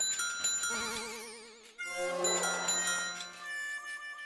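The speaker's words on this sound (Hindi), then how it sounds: "जब भी साइकिल की घंटी बजती है ना" A bicycle bell rings with bright, warbling trills, two quick bursts close by with no talking.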